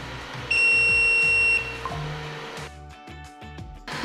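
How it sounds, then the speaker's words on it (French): An Anker Make M5C 3D printer signals a finished print with one steady, piercing beep lasting about a second, followed by quieter mechanical clicks and shuffling. "La fin de l'impression nous est indiquée par un bip sonore de l'imprimante"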